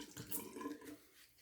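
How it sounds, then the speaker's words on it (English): Cold water running briefly from a tap to rinse a razor, a faint, soft splashing stream. "we're going to do a cold water rinse"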